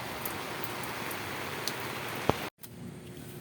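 Rain falls steadily outdoors, a dense close hiss with a few sharper drop impacts. It cuts out abruptly near the end and returns more faintly.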